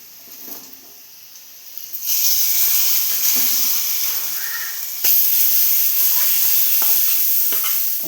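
Fried coconut mixture tipped into a mango and fish curry made with kozhuva fish gives a loud, steady sizzle and hiss that starts abruptly partway in and keeps going, with a sharper burst and a few clinks and stirring knocks later on.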